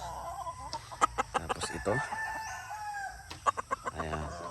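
Chickens and roosters at a small backyard coop, close clucks and a rooster crow mixed with sharp bursts of cackling, someone speaking briefly in the middle.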